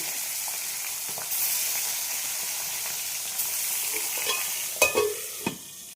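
Small tengra and boal fish slid one by one into hot oil, giving a rising hiss and sizzle with a few sharp spits and clatters near the end, close by and without speech.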